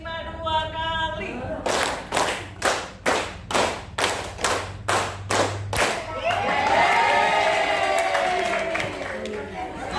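A group claps in unison in a counted clapping game during a teachers' workshop, about nine sharp, evenly spaced claps, then the room breaks into loose clapping, cheering and chatter.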